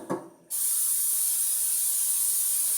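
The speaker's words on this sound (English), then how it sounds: "What I'm doing here is I'm spraying the pan I'm going to use" After a brief clatter, butter-flavored cooking spray hisses steadily and loudly onto a pan being prepared for mac and cheese. The spray continues unbroken to the end.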